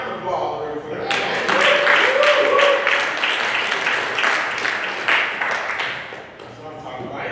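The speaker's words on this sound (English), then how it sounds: "So give me a round of applause real quick." Comedy club audience applauding on cue from the comic: a burst of crisp, scattered claps rising after a second, sustained for several seconds with voices mixed in, then tapering off.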